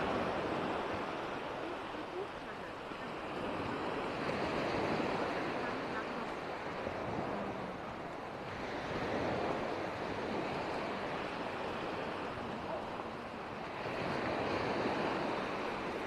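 Gentle, shallow sea waves wash onto Kumköy beach in slow, soft surges, rising and falling every few seconds with a light breeze in the background.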